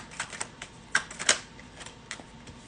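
Tarot cards shuffled by hand at close range: soft, irregular flicks and papery snaps with a few sharper clicks, with no talking.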